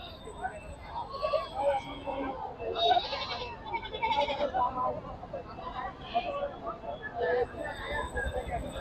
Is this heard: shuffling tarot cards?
no